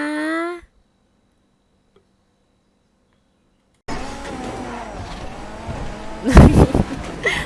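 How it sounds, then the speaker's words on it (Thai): A race car engine in the GTA V video game bursts in after a short silence and keeps roaring with rising and falling revs, peaking in a loud surge near the end, with brief voice sounds at the start. "รถแข่ง รถแข่ง"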